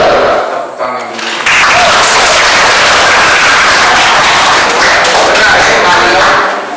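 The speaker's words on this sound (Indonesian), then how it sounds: "Tepuk tangan dulu." A classroom of students breaks into loud, close applause, a dense burst of many hands clapping that swells and carries on steadily, with a brief pause near the start.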